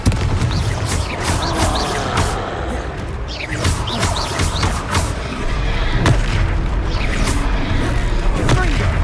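Confringo fire spell blasts in the Hogwarts Legacy video game, a dense run of booming explosions and thuds layered over continuous combat noise, with bursts repeating every second or two and no quiet gaps.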